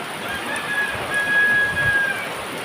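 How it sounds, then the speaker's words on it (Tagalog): Steady hiss of heavy all-night rain pouring down during flooding in Valenzuela City, a dense continuous wash of noise with a faint high tone drifting through the middle. "Grabe yung ulan, magdamag. Walang hinto yung ulan"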